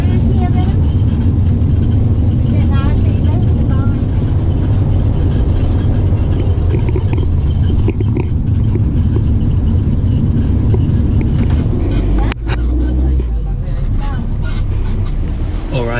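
Long-distance bus on the road to Laos, a heavy continuous rumble of engine and road noise with rattles and one sharp clunk near the end, steady from inside the cabin.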